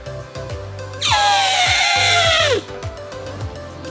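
A person imitates an elephant at the Houston Zoo, giving one loud, wavering trumpet-like blast of about a second and a half that slides downward at the end, with quieter background noise before and after.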